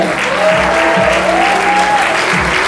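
A theater audience at a stage play applauds Miss Skyler during the cast introductions, producing a loud, dense, continuous roar of clapping with cheering voices rising and falling within it.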